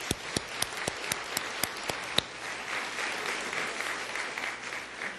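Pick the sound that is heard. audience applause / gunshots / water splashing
audience applause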